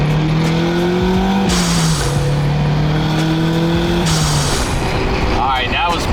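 A turbocharged Mazda Miata at an autocross revving hard and close, its loud engine pitch climbing in two long pulls with a gear change between them, then fading as another sound rises.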